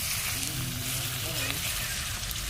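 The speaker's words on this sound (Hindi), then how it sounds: "अब इसमें पूरा चिकन आकर भुनाएगा।" Chicken pieces frying with browned onions in a pan, a steady broadband sizzle throughout, moderately loud and continuous without a break.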